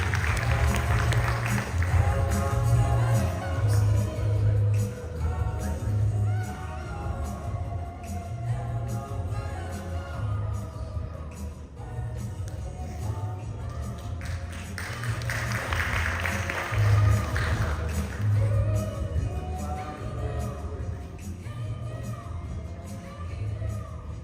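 Conference audience applauding as a guest is invited onstage at a leadership and women's professional awards event; sustained, dense clapping and crowd noise fills the hall for the whole stretch, swelling and easing slightly without pause.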